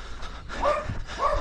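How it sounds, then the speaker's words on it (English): A dog barks twice at a distance along a rural running route, two short yelping barks over outdoor background noise. "Dogs really don't like me here in this region."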